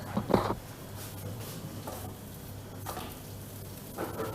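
Unleavened katmer dough cooking in a frying pan gives a steady soft sizzle and hiss over a low hum, with a brief clatter near the start and a few light bumps.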